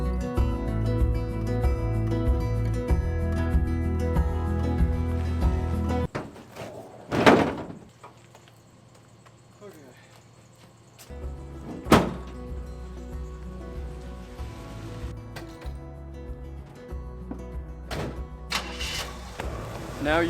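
Worn doors on a converted bus are worked open and shut, giving a few loud thunks and slams spaced through a quiet interior after a stretch of steady hum.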